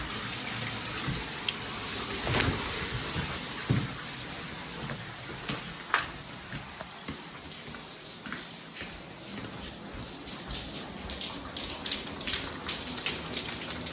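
Water from a full tank draining after a plumbing leak in a house, a steady rushing splash with scattered drips and knocks throughout.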